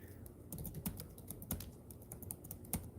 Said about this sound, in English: Typing this in, because again,